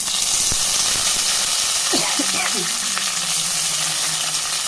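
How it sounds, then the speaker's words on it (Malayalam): Curry leaves and dried red chillies crackle and sizzle in hot oil while tempering a Kerala-style sambar, a loud, steady frying hiss with a few sharper pops and stirring sounds and no talking. "കുറച്ച് കറിവേപ്പില കൂടിയിട്ട് കൊടുക്കുക"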